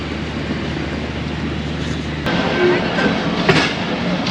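The Khyber Mail passenger train rolls along in cold, foggy Punjab weather, a steady loud rumble with a low hum that shifts partway through, then a faint squeal and clatter.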